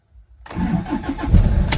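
A car in neutral with a weak battery cranks and starts after a brief quiet lead-in, the engine catching into a rough, uneven idle with a few surging bumps, loud and close.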